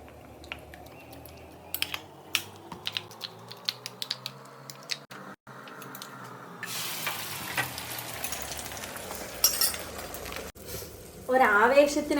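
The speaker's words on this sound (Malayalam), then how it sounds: "മുട്ട പൊരിച്ചതും മസ്റ്റാണ്" Eggs fry in a pan with a faint, crackling sizzle that swells louder toward the end, mixed with clattering utensil taps.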